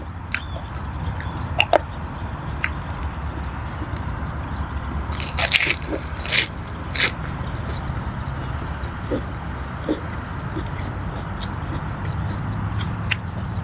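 Pickled egg crab is bitten and chewed close to the mic, giving a few sharp crunchy cracks in the middle amid soft wet chewing over a quiet outdoor background.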